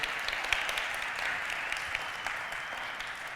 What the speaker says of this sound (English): maybe an applause for the main MC of the day